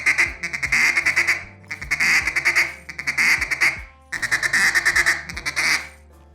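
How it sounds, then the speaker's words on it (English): A duck call blown in a rapid stuttering feed chatter with drags mixed in, honking quacks in four loud close bursts with short gaps between, no talk. "All right, and we do the cuck cuck sound with the drag in there."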